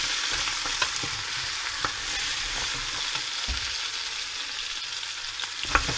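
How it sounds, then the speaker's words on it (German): Tomato paste sizzles steadily as it roasts in a pan for a jus and vegetable stock, a continuous bright fry with occasional soft stirring scrapes and small pops. "das Tomatenmark, das röste ich eben mit für die Farbe und für den Geschmack natürlich"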